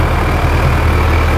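Tractor engine dropping to idle after the throttle is released, a steady, close, low rumbling drone with no change in rhythm, heard alone.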